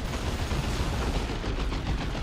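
Massed gunfire crackles in Dawn of War 2 as Grey Knights in a Rhino and Stormtrooper squads clash with Ork boys, a dense, continuous rattle of shots with no voices.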